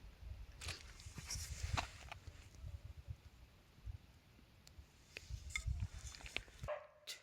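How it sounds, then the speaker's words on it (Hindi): A dog barking at langur monkeys sitting nearby, a string of sharp barks in irregular bursts with short gaps, moderately distant and outdoors, ending abruptly. "ये देखो दोस्तों कुत्ता है और ये लंगूर बैठे हुए हैं, इसीलिए वो भौंक रहा है।"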